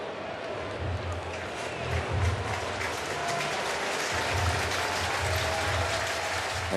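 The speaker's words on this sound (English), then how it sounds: "a huge round of applause for the Mets pitcher" A ballpark crowd at a Mets game applauds as pitcher Senga leaves the mound, sustained clapping and cheering from a large stadium audience, with a commentator's voice underneath.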